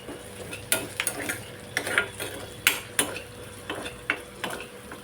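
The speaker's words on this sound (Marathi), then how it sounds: "कढीपत्ता, कांदा थोडा लाल रंग होईपर्यंत परतून घेऊया." Curry leaves, asafoetida and onion sautéing in a pan, a low sizzle broken by sharp, irregular clinks and scrapes of a spoon against the metal, close and alone without speech.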